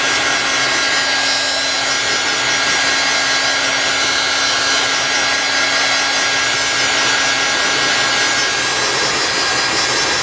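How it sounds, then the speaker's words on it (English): A hair dryer blows hot air to dry freshly dyed fabric trim, a loud, constant roaring whoosh with a steady whine that runs unbroken throughout. "This one's still kind of wet, so I'm gonna go ahead and heat it up,"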